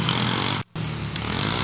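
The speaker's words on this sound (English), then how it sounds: "there's just some kids and bikes and quads riding by" Small engines of passing bikes and quads drone steadily nearby, loud and continuous with a brief cutout, no talking.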